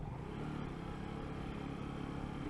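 A Lexmoto ZSB motorcycle runs in third gear at about 20 mph, a faint, steady low engine hum with buzzy undertones under constant wind noise.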